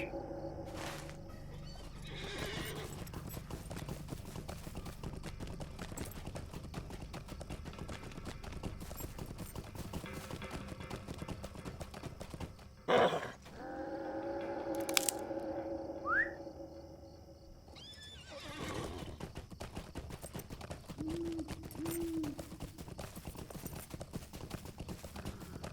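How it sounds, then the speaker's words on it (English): A horse's hooves clip-clop at a steady trotting rhythm in the Lord of the Rings Online video game, close and clear, with a couple of whinnies and snorts breaking in midway and distant bird calls. "Let me get on my horse."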